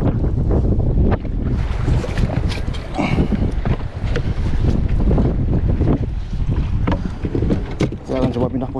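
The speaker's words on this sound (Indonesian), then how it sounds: "Ombaknya besar sekali dah." Big sea waves slosh and slap around a small fishing boat offshore, mixed with heavy wind buffeting, continuous and loud with irregular splashes.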